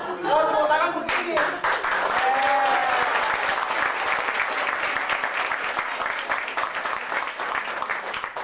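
Applause from an audience at a selling and recruiting seminar, a dense, sustained wash of many hands clapping that continues steadily throughout, with a brief voice audible near the start.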